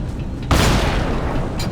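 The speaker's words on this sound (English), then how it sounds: "Move the opposite way of the bomb's explosion somehow." Bomb explosion in the video game Lara Croft and the Temple of Osiris, a sudden loud boom that rolls into a long rumbling blast, with a second burst near the end.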